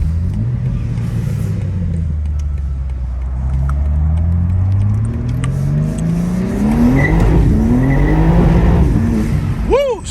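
A BMW G82 M4 spins its wheels on a cold day, engine revving hard as the pitch sweeps up and down under screeching tire squeal, loud and close, with a few excited shouts.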